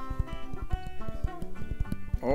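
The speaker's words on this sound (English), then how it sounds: "Farmer John, I hear something trotting around" A horse trotting, its hooves clip-clopping in a quick, even rhythm, close and clear over a short stretch with a faint whinny-like sound at the end.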